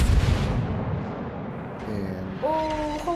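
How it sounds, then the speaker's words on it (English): Main battery guns of the Italian battleship Conte di Cavour firing in World of Warships, a deep rumbling boom that rolls on, followed by a rising tonal whine of shells in flight. "That's like half my guns going off only."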